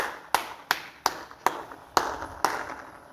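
Six sharp hand claps at an old temple site, spaced at an uneven slow rhythm, each one followed by a short ringing echo that trails off before the next clap.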